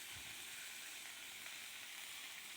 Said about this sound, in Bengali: জিরে গুঁড়ো সব কিছু আমি দিয়ে ভালো মতন নাড়াচাড়া করে নেব।